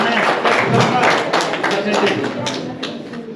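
Crowd applause at a school prize-giving ceremony honoring a top-scoring student, dense sustained clapping from many hands across the hall, steady and loud throughout with some chatter mixed in.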